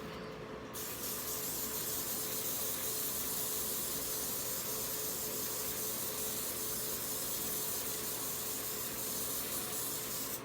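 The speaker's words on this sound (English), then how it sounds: "I'm gonna spray the whole cut." Continuous spray paint hisses steadily over a cut, starting after a short pause and running loud and unbroken for about ten seconds.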